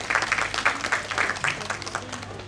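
Audience at a stage play performance applauding the backstage crew, a steady patter of clapping from a modest crowd in a hall, moderately loud and fading slightly toward the end.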